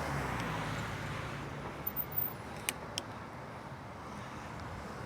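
Road traffic heard from an e-bike on a cold day, a broad low rumble of cars going by at a distance, steady and fairly faint, with a few brief higher ticks and clicks near the middle.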